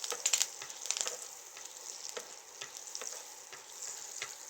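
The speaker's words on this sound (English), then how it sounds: "now that you see it smoking up like that, what we're gonna do is we're gonna put our oregano." Oregano dropped into hot, smoking oil in a pan for eggplant pasta, a close, bright crackling sizzle that flares briefly, then settles into a steadier fry with scattered pops, with no one talking.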